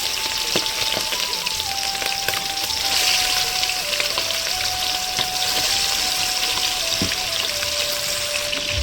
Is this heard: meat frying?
yes